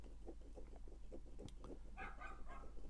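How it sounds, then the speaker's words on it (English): Dogs next door bark and whimper faintly through an open window in spring, distant and muffled behind a steady low room hum. "if you can hear dogs barking, it's next door"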